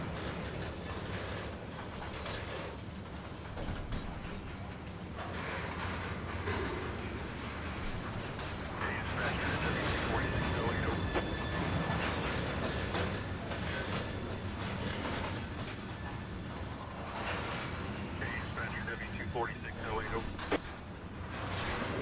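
A CSX freight train in the Trainz simulator game rolls along the rails with a continuous rumble and faint clickety-clack. It is heard under intermittent talk, with one brief sharper peak near the end.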